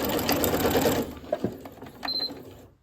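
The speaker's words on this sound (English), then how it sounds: "I'm going to do a back stitch at the end" A sewing machine stitches a short back stitch at the end of a seam on a fabric tie: a loud, close, rapid mechanical whirr for about a second, then a few softer clicks and taps.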